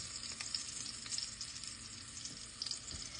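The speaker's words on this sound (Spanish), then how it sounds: "Vamos a remover todo eso." Vegetables sizzle and fry steadily in a pan as they are stirred, a close, continuous crackling hiss with occasional scraping from the stirring and no voices.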